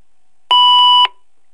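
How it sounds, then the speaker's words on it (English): A single electronic beep marks the end of a voice recording, a steady tone lasting about half a second with brief pulses at its start, middle and end, clear and isolated against silence. "And this again will be followed by a beep."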